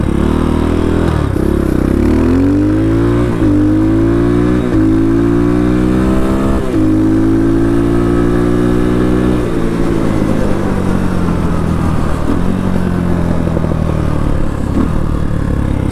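A 2023 X-Pro Titan DLX clone motorcycle engine revs repeatedly in rising and falling bursts, then settles into a steady rough idle with mechanical clatter, close and loud throughout with no talk.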